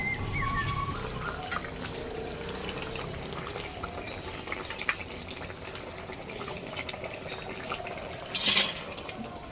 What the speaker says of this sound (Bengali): এই পর্যায়ে দিয়ে দিচ্ছি ভেজে রাখা মাছ।